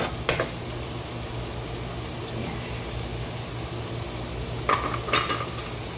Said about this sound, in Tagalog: hintayin natin mag-transparent yung sibuyas